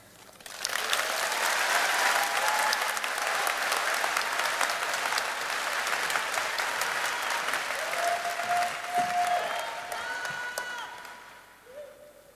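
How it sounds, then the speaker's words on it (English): A high school graduation crowd claps loudly and continuously for about twelve seconds, with faint whoops or cheers rising through the applause before it thins and fades at the end. "All right, another round of applause for our great student speakers."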